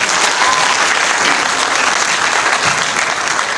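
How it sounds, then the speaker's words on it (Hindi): A school annual function audience applauds a dupatta performance with loud, dense, sustained clapping that fills the hall evenly throughout. "इस शान के लिए तालियां होनी चाहिए।"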